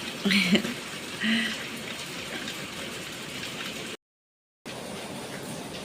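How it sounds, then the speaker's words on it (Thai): Rain patters in a constant wash through a morning, with a couple of brief louder murmurs near the start and a short dropout of sound partway through. "ฝนมันตกเนาะ"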